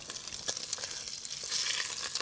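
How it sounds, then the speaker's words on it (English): Lamb shanks searing in a hot pan give off a loud, steady sizzle with crackling spits throughout, close and continuous with no talking. "pop it in a hot pan so you can hear that sizzle"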